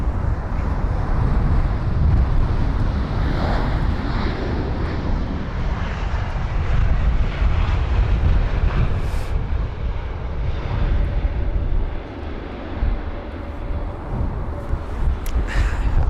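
An airliner lands at London Heathrow in gusty wind, its engines a loud, continuous broadband roar with rumbling wind buffeting the microphone, easing slightly toward the end.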